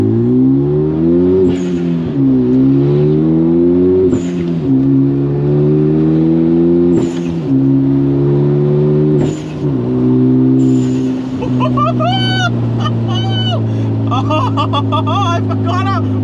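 A Hyundai Genesis Coupe on Federal 595 RS-R tires pulls hard from inside the cabin, its engine droning loud and steady through repeated rises in revs with brief dips at shifts, while a person talks over it.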